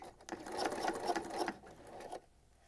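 A sewing machine stitching fabric for an oven mitt runs in a steady, rapid whirring burst for about two seconds, close and clear, then stops into quiet.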